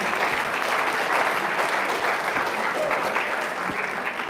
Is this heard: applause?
yes